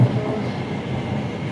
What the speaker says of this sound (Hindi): यहाँ ये भी मेट्रो ही है टोक्यो का।